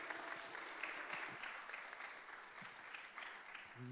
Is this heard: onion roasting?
no